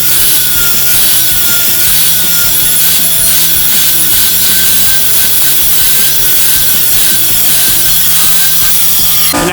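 Handsaw drawing back and forth through a wooden deck post to cut a score line, a steady rasping rub that runs continuously and up close with no talking.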